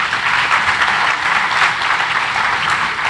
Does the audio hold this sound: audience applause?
yes